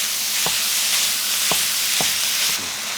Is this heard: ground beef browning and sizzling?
yes